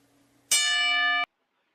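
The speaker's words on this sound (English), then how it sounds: "as the bell rings" A single bell strikes once, a bright ringing tone that sustains steadily for under a second and then cuts off abruptly, heard alone over faint hum.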